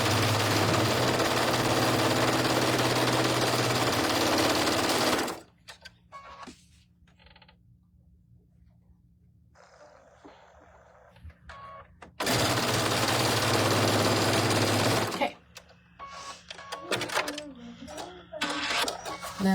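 A sewing machine stitches a quilt block seam for a Rocky Mountain Sampler block, in two loud steady bursts of several seconds each separated by quiet handling noises, with a voice talking between runs.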